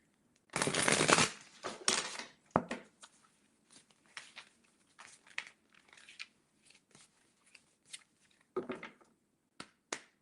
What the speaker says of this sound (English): just gonna shuffle my cards here